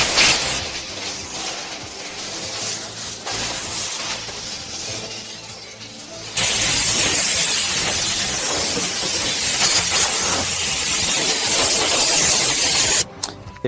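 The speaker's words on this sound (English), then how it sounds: "Blow clean all surfaces with compressed air." Compressed air blowing clean the door surfaces of a Volkswagen Caddy, a harsh broadband hiss in bursts, softer at first, then a louder sustained blast that cuts off abruptly near the end.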